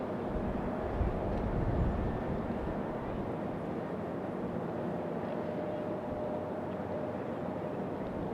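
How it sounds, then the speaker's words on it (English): An Embraer E-175 jet taxiing at Raleigh-Durham airport, a steady broadband engine rumble and whine heard from a distance, holding even for the whole stretch with no talking. "E-175 going to go up the hill, wait for Lufthansa to get out of the way"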